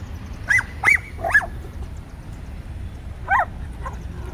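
A dog on a downtown street in Waxhaw, North Carolina barks in a few sharp, high yips, three in quick succession and then one more after a pause, heard fairly close over low outdoor background rumble.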